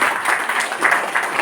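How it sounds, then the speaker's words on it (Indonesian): Brief, dense clapping from an audience at a DPD chairman's policy presentation event, a steady patter of many hands at moderate loudness with no voices over it. "Tepuk tangan buat Ketua DPD."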